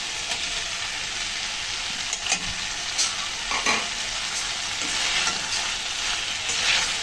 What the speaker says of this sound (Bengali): এখন দিয়ে দিচ্ছি আমি মাছ